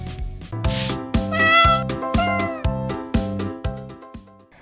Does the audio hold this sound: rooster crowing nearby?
no